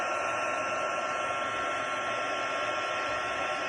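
A heat embossing tool blows steadily while melting embossing powder along the edges of a card, a constant close whirring hum with a high whine, unbroken throughout and no voices.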